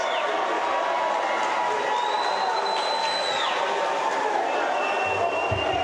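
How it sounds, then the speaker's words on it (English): A packed gym at a college basketball playoff game between Cochise College and Arizona Western College roars with a constant, dense wall of crowd noise and cheering, with whistle-like tones riding on top. "The crowd is absolutely crazy here tonight."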